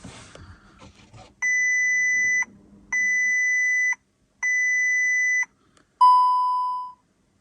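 Warning chime from a VW Golf MK7 with a coolant-low fault after its level sensor was disconnected and the ignition cycled: three evenly spaced, sustained electronic beeps, then a single ringing tone that fades out. Loud and close, with no talking.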